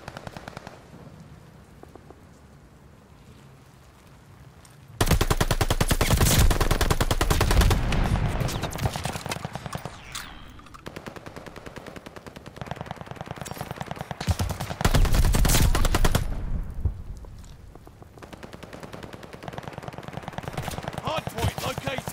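Rapid bursts of video game gunfire during a ranked hardpoint match, a loud dense crackle that kicks in after a quieter opening and surges again midway, with brief lulls between volleys.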